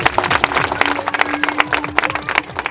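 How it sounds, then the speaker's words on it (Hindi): An audience claps at a village wedding celebration in Surguja, Chhattisgarh, a loud, close burst of hand claps with an uneven rhythm running throughout, over a steady background hum. "ताली बजा दीजिए आप लोग।"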